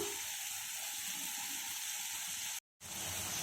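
Steady rushing of water over sweet potato pieces being washed, a continuous close hiss and gush with one brief cut-out near the end.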